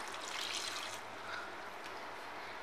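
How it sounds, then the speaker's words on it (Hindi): A soft trickle of about half a litre of water pours steadily into a pressure cooker for a couple of seconds, faint and close, with no talking. "अब हम इसमें डाल देंगे 1/2 लीटर के करीब पानी,"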